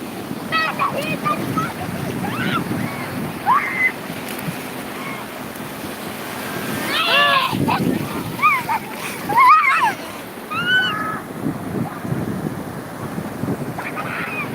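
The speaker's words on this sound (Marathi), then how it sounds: "बापरे केवढ्या लाटा मोठ्या मोठ्या" Big ocean waves surge and crash with wind noise, while voices call out excitedly over the roar of the surf.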